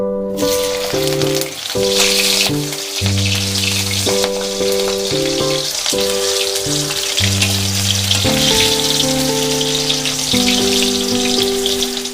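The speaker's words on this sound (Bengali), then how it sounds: "এবার কাঁচকলাগুলো ভেজে নেব।" Continuous crackling sizzle of raw banana pieces frying in oil, steady and close, with loud music playing over it throughout.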